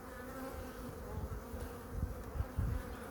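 Honeybees swarm over an opened hive in spring, where drones are being pushed out, and their dense, steady buzzing fills the air up close, swelling in a few louder pulses as bees pass near.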